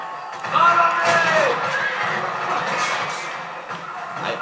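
A horse whinnies loudly in the Western video game Red Dead Redemption, one sharp neigh near the start over noisy game ambience and voices.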